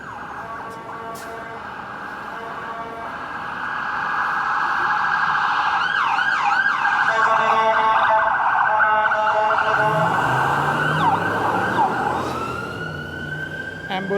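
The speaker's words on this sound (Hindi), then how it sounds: "एम्बुलेंस थी" An ambulance siren passes along a snowy Bloor Street in Toronto near Dufferin, its wail rising to a loud, cycling peak, then sweeping and fading away over steady street noise.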